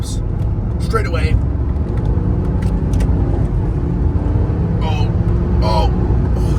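A twin-turbo 4.4 litre V8 BMW, built to about 700 horsepower, accelerates hard with a loud, steady engine roar from inside the cabin, while someone talks briefly over it.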